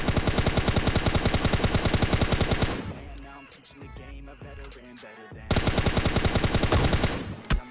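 Rapid bursts of S12K shotgun and M4 rifle fire in PUBG Mobile Lite, loud and dense for several seconds, a quieter gap with scattered sounds, then another sustained volley.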